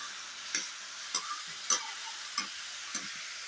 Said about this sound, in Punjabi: ਆਇਲ ਤੋਂ ਬਾਅਦ ਗੰਡਿਆਂ ਨੂੰ ਫਰਾਈ ਕਰਨਾ ਹੈ